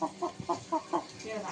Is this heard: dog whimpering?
no